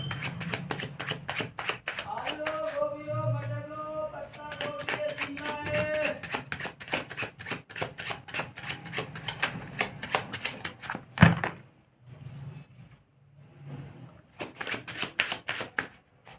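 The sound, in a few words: shuffling tarot cards for a reading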